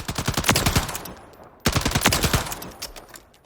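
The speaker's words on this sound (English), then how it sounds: "the recoil just gets so terrible after that first like 7-round hyperburst" Two rapid full-auto bursts from a gun in Call of Duty Modern Warfare III, close and loud, each a quick string of sharp shots, the second starting right after the first dies away.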